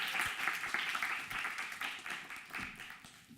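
An audience applauds after a presentation, a continuous, moderately quiet patter of many hands clapping that slowly fades over a few seconds.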